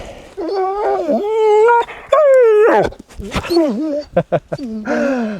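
A dog at a country farmyard howls and whines loudly up close in long wavering calls broken by short yips, with a person speaking briefly in between.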